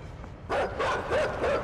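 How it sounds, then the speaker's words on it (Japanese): A fierce dog in the video game Inside barks several times in a row, sharp and fairly close over a low background rumble, with no voices. "かなり凶暴な犬ですからね"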